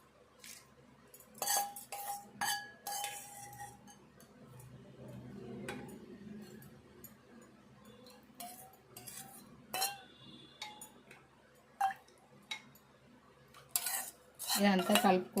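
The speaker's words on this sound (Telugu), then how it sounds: "ఈ తాలింపు ఇందులో వేసుకోవాలి." A metal spoon stirs a tempering into Telangana-style sesame soup in a pot, giving scattered light clinks and scrapes against the vessel, with quiet pauses between.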